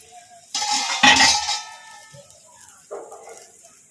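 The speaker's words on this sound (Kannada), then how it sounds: "ಈಗ ತಟ್ಟೆ ತೆಗೆದು ನೋಡೋಣ." A plate lid comes off a frying pan of green chilli masala fry with a sharp metallic clatter and clink, then a brief scrape and a softer clink near the end, close and fairly loud.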